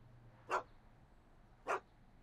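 Einstein the dog from the Back to the Future game barks twice, two short, clear woofs about a second apart against a quiet background.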